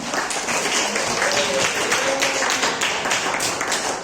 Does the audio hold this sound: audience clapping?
yes